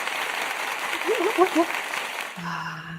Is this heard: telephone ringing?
no